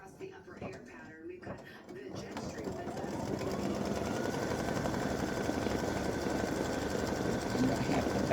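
An embroidery sewing machine stitching a Thanksgiving turkey tic-tac-toe design with its bobbin and thread, starting after a brief pause and settling into a steady, close, continuous mechanical whirr with a fast stitching rhythm.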